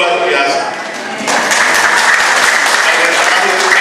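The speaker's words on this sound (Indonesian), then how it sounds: "Tepuk tangan dong." A church congregation claps loudly and steadily at an anniversary celebration, the applause dipping briefly then swelling back to a dense, sustained roar.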